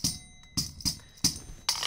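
A lagerphone, a loose metallic rattle, struck against a hard floor five times in an uneven rhythm, each bounce giving a sharp jangling crash that quickly fades.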